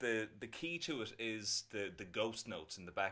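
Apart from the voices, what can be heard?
No everyday noise stands out behind the speech.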